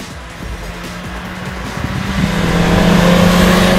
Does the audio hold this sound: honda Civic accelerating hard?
yes